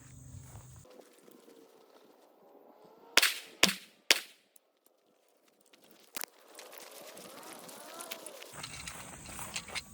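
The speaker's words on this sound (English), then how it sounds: "let's fire 3 shots to confirm 0, then we'll beat it up" Three sharp rifle shots fired with 147 grain ammunition crack out in quick succession, loud and close, each followed by a short decay; a faint outdoor hiss fills the quieter stretches before and after.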